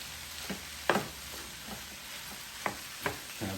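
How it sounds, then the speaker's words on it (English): Spam fried rice frying and being stirred in a Power XL cooker: a steady sizzle underneath, broken by several scraping stir strokes at irregular intervals, close up with no talking. "Put the rice in, stir it up."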